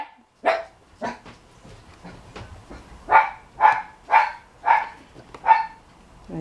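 A dog in a home garden barks at a bird, giving about nine sharp, fairly close barks. They start irregularly, then fall into a steady run of evenly spaced barks with quiet gaps between them.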